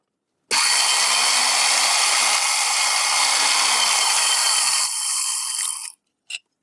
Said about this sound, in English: If you notice the drill bits as they're turning, this is a pretty stable setup.